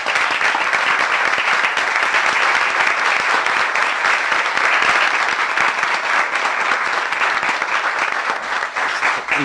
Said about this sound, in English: You offer them a round of applause.